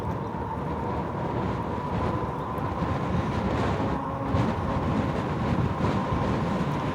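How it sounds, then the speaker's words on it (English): Wind buffets the microphone while riding a RadRover electric bike outdoors on a mild day, making a steady, close, roaring rumble with no other clear sound over it. "Of course, you probably still hear the wind"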